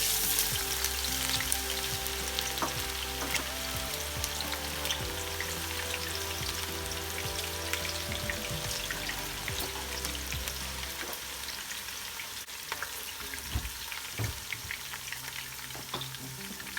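Sliced onions sizzle and crackle steadily in about a cup of hot oil for jollof rice, a dense continuous frying hiss with scattered pops and occasional stirring, no voices.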